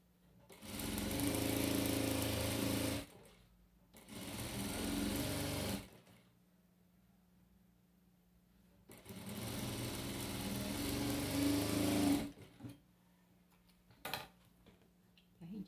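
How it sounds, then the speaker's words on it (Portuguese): Small, noisy sewing machine stitching zigzag on a crib bumper, running in three long bursts of steady whirring with quiet pauses between them and a few light ticks toward the end. "Aqui eu passei até no zigue-zague ali da maquinazinha, a maquinazinha barulhenta."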